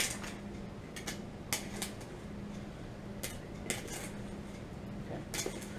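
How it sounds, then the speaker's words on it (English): A spoon clinks and scrapes against a bowl while a mixture with ground pepper is stirred, giving sharp intermittent taps spaced irregularly over a steady low hum. "just simply stir it well"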